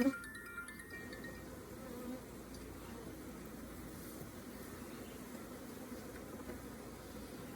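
Honeybee colony buzzing in a steady, faint, continuous drone while a beekeeper catches the queen and handles brood frames.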